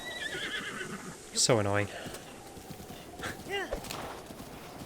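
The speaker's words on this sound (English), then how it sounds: "I think I'll just go and call my horse" A horse in Zelda: Breath of the Wild whinnies loudly once after being called, followed by a few clip-clopping hoof steps, all under steady background game music while someone talks over it.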